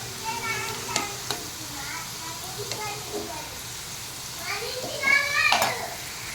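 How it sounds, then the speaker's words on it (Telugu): Bitter gourd pieces frying in oil over a low gas flame, a soft continuous sizzle with occasional utensil taps, under children's voices and chatter in the background. "గ్యాస్ సిమ్లో ఉంచేసి ఫ్రై చేయాలి గోల్డ్ కలర్ వచ్చే వరకు"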